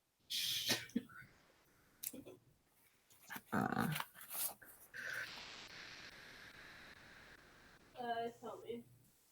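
A dog growls and snorts faintly in the background of an online school board meeting, a few short rough bursts over a quiet room hiss with muffled speech nearby.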